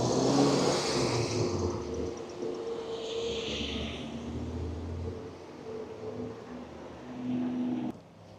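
Car traffic passing along a through road in the small seaside town of Cromer, a steady engine hum and tyre roar that swells and fades as vehicles go by, with a sharp cut near the end.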